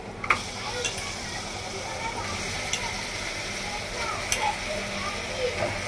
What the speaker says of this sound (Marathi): याच्यामध्ये आपण स्वच्छ धुवून घेतलेलं चिकन टाकायचं।